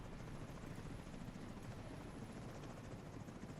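A helicopter approaches in The Division 2, its rotor a steady broadband thrumming wash that holds loud and even throughout, with no voices over it.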